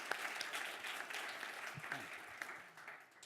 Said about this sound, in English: So let's have a round of applause for all those people.